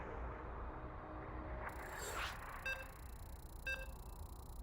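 A few short electronic beeps from a video game lobby as players ready up, spaced about a second apart, ring out over a low steady background hum.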